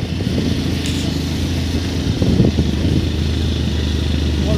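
A Bajaj Pulsar 180 motorcycle being ridden, its engine a steady low drone with road and wind noise, close and constant throughout.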